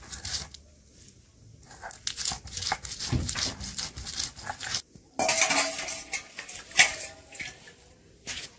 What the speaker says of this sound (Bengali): শুটকি দিয়ে বাইটে লাইতেছি